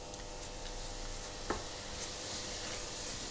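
Butter pieces melting into a syrupy orange juice reduction in a pan, giving a steady soft sizzle with light stirring scrapes throughout, close and continuous without talk.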